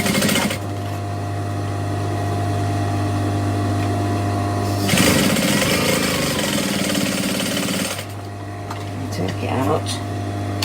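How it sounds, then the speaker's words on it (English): Sewing machine stitching again along a row of stitches at a work desk: a steady mechanical whirr in bursts with a sustained motor hum, stopping and starting, with talking heard over it. "I'm going to stitch again along that row of stitches"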